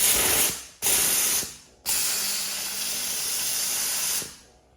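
A Karcher SC3 steam cleaner, its water pump fixed, sprays loud hissing bursts of pressurized steam, two short blasts followed by a long sustained jet that cuts off abruptly.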